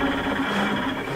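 An embroidery machine runs a trace-out on a home embroidery setup, giving a steady, close mechanical whir with a continuous hum throughout the short stretch.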